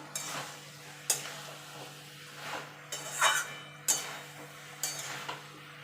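Spinach stalks with coriander leaves cooking down in a pan, stirred now and then: soft sizzling under a steady hum, broken by several sharp scraping clinks of a spoon against the pan.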